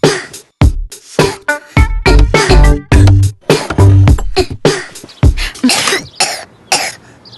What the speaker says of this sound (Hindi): खांसी छुपा रहे थे?